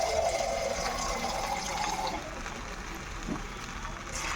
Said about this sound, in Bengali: এবার আমি একটু জল অল্প পরিমাণ জল দিয়ে দিলাম